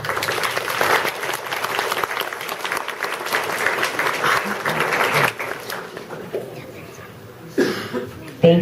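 Audience applause for a school strings performance, a dense steady clapping that fills a hall for several seconds, then thins out with scattered claps, a cough and murmurs near the end.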